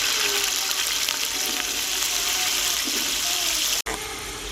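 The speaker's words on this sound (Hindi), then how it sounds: "प्याज को सुनहरा होने तक भून लेंगे।" A kilo of onions fries in hot oil for beef pulao, a steady, dense sizzle that runs on without pause, close and fairly loud, with a faint background hum.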